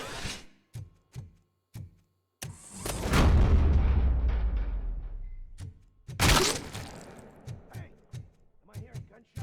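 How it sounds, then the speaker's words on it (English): Gunfire and heavy impacts in the Robocop Rogue City video game: several sharp separate shots, then a long booming blast that fades out, another loud burst, and more scattered shots, with voices talking in between. "Am I hearing gunshots?"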